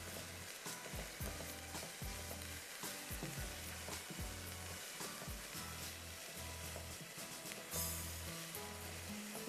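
Minced keema browning in a pan, a steady busy sizzle with crackling and occasional stirring scrapes, continuous and close with no talking.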